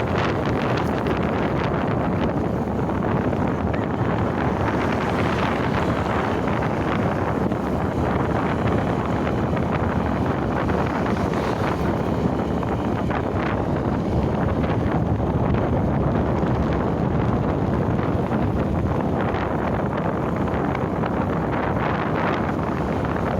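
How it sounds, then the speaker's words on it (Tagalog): Wind blows steadily outdoors along a road in a provincial area, a constant broadband rush buffeting the microphone for the whole stretch with no talk. "Nakapa-presko ng hangin dito."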